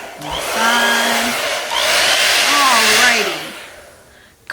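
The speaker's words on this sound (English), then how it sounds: "And the magic blow dryer comes in. Blow dry it from the side, from the top" A hair dryer blows loudly and close on wet paint on a creepy-tree painting, a steady whooshing roar with a wavering motor whine. It runs for about three seconds, then tapers off before a brief bump at the end.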